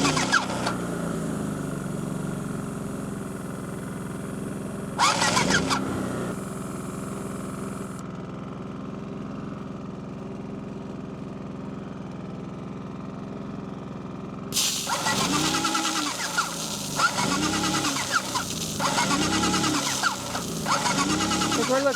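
The pump of a bargain airless paint sprayer kicks on to restore pressure, with bursts of loud mechanical motor rumble and pulsing, separated by a quieter stretch of lower hum.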